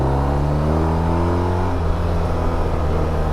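A BMW R1250 RT boxer-twin motorcycle engine while riding, a loud steady drone with strong low harmonics that shift in pitch as the revs change, close and continuous with no talking.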